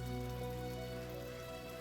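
Rain falls in the Stonehearth video game, a steady patter of drops on surfaces over a sustained tonal game music bed, even and continuous with no talking.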